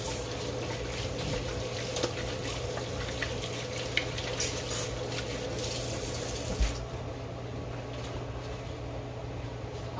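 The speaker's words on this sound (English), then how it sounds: "I'm gonna wash my hands" Hands being washed under a running kitchen tap, a steady close splashing rush of water that continues throughout, then quietens near the end.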